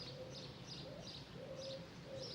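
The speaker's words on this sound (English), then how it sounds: "you hear the birds" Birds sing softly in the background along a riverside path, with a steady low cooing call repeating under faint higher chirps, distant and continuous over a gentle outdoor hiss.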